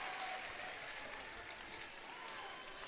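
A crowd cheers and claps in a gym during a boys' high school basketball game after a rebound and basket, a steady wash of applause and noise heard from a distance alongside a commentator's voice.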